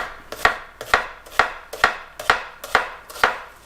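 A kitchen knife chopping an onion on a cutting board strikes seven evenly spaced, crisp thuds about half a second apart, loud and close, with nothing else heard.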